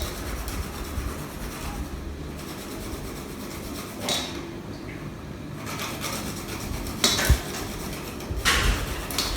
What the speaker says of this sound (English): So you grate it into it very nicely.